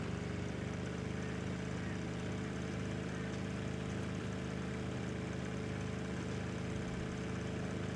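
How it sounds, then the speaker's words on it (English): A helicopter engine in the game Rust drones steadily with a rough, buzzing, motorcycle-like tone and low rumble, loud and continuous throughout with no talking. "It sounds like a motorcycle engine."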